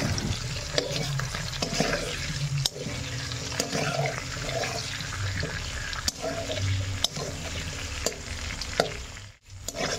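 Potatoes fry in hot oil seasoned with salt and turmeric, a continuous close sizzle broken by sharp spatula scrapes and clicks against the pan as they are stirred.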